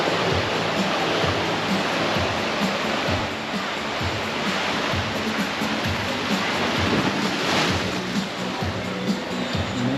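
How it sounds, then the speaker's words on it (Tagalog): A rough sea at the shore surges and crashes in a steady, loud, broadband roar with no breaks, while someone speaks faintly under the surf. "Maalon ang dagat."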